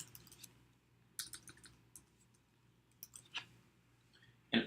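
Sparse typing on a computer keyboard, scattered light key clicks in small uneven clusters with gaps of near silence, faint and close, ending on one sharper louder tap.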